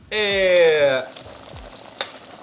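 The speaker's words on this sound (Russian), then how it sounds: "Просто кидаем вот так вот. Оп, шипит, но без фанатизма." Chicken and dough pieces hit a hot frying pan with a brief tonal squeal, followed by a moderate, crackling sizzle that fades to a softer hiss, with no talking.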